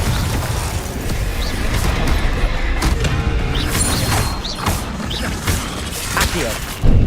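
Confringo blasting spell in Hogwarts Legacy combat, a busy run of crashing impacts and thuds with bright whooshing bursts, dense and loud over several seconds.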